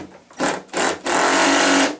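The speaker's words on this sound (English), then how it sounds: "Hear it ratcheting, and it won't strip out your screws." A cordless drill drives screws while assembling a ready-to-assemble lazy susan cabinet, and its adjustable clutch ratchets and buzzes in three close bursts, the last one long and sustained, loud and near with no talk.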